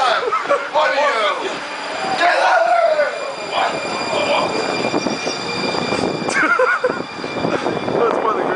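The interior of a moving train carriage full of wrestling fans, with a constant rumbling rail noise beneath loud shouting and chatter from passengers close by.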